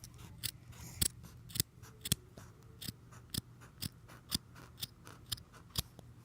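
Scissors snip off extra fabric pieces while a small doll bed for Melody is being made: about fourteen crisp, close cuts in a steady rhythm, with no talking.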